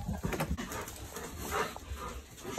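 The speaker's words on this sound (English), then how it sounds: "Dogs are so excited to see us." Excited dogs greet their owners returning home, panting and whimpering softly at close range; the sound stays fairly quiet and no one talks.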